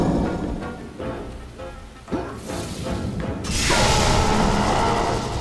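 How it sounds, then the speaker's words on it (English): Lightning and thunder magic in the fantasy action game Majin and the Forsaken Kingdom: a sharp crack followed by rolling, swelling rumble and a loud hissing crash of storm energy that builds and sustains toward the end. "I make lightning."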